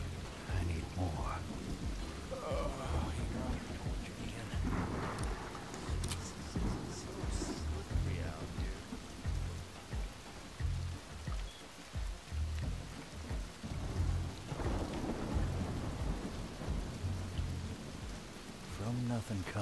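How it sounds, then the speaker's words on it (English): Thunder and rain in the video game Desperados 3 at a farm, steady heavy rainfall with low rumbling thunder rolling underneath throughout, loud and continuous, with voices speaking over it. "The lightning just gave them a sign."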